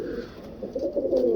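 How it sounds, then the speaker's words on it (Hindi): Grey pigeon cooing close by, a soft, low, throaty burbling coo that swells and repeats across the moment with faint background hum. "वैसे ये ग्रे कबूतर है, ग्रे पैरेट चंदा खान"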